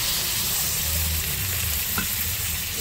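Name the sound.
grated tomato frying and being stirred in a pan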